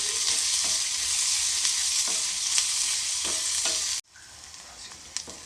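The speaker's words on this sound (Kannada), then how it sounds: "ಇದನ್ನು ಚೆನ್ನಾಗಿ ಫ್ರೈ ಮಾಡ್ಕೊಳ್ತೀನಿ" Onion, ginger and garlic frying in a pan for a South Indian dish, a steady close sizzle with occasional stirring scrapes, dropping briefly quieter near the end before continuing.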